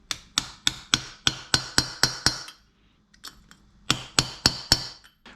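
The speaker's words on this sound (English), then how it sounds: "I'm just gonna give them a quick little tappy poo." Steel hammer tapping valve parts into LS engine cylinder heads: a quick run of about nine sharp, evenly spaced metallic taps, a pause, then four more, close and loud.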